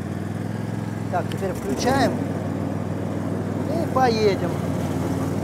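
A Caiman Rapido Max Eco garden tractor engine runs with a steady low idling drone throughout, while someone speaks briefly over it.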